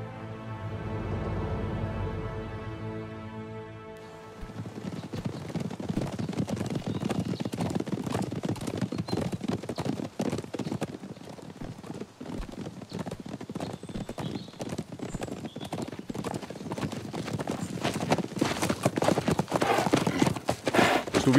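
Horses gallop in a historical drama scene, a steady rapid clatter of many hoofbeats that rises and fills the whole stretch, following a short low droning tone at the start, with no talk over it.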